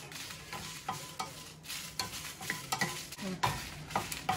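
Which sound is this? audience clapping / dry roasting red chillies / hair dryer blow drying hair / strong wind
dry roasting red chillies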